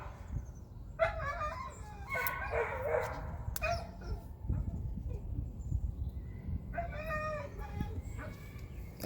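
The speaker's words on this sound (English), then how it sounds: "I guess a dog's getting on his nerves too" A neighbor's dog outdoors giving several separated bark-like yelps over nearly ten seconds, moderately near, against steady background noise.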